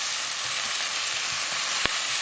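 Onions frying in a pan for chicken vindaloo give a steady, close sizzle that runs without a break, with one sharp crackle near the end.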